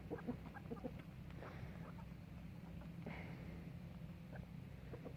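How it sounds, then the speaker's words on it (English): Chickens and roosters on a small farm cluck softly in a quiet, faint scatter of short calls over a low background hum, with no voices. "I have 2 roosters and about 9 chickens."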